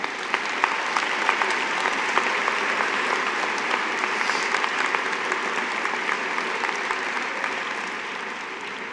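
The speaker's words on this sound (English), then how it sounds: "can you give them a round of applause and thank them?" A high school graduation audience applauds the teachers, a loud, sustained wall of clapping from a large crowd, steady from start to finish with scattered sharper claps.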